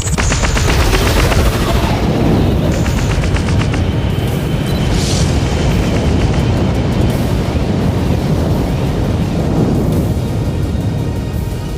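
Spaceship weapons unleash a dense, continuous barrage of rapid booming fire, loud and close, layered with rumbling blasts and a few rising electronic tones, with no voices during the onslaught.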